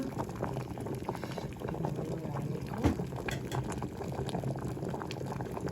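A pot of food bubbles at a rolling boil over a village cooking fire, a steady dense simmering close by, with one short spoken word partway through.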